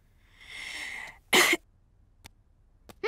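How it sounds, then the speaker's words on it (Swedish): A single sharp cough, close and loud, after a stretch of soft tonal noise, followed by a couple of faint short clicks. "Andas in djupt och hosta."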